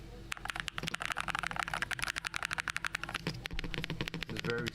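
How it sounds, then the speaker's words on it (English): Fingers type rapidly on a quiet gaming computer keyboard, a dense run of close clicks and clacks with brief pauses, steady and moderately loud over faint background noise. "You can hear the keyboard right now."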